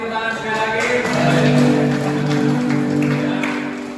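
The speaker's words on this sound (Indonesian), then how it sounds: "kita kasih tepuk tangan sekali lagi" Congregation applauding during a Sunday cultural worship service in a church, a dense wash of clapping that swells and holds, with tonal music or voices running underneath.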